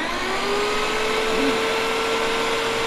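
A Sun Joe electric dethatcher-scarifier motor, 13 amp, runs at a steady loud whine with a vacuum-like roar and a constant hum, holding without a break through the whole stretch.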